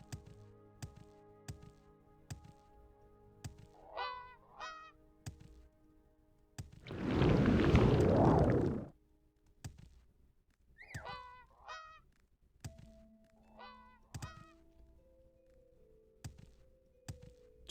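A goose-like bird in the video game Abecean Shores gives repeated short honks in clusters across the scene, interspersed with soft taps and thunks and one loud burst of broadband noise in the middle.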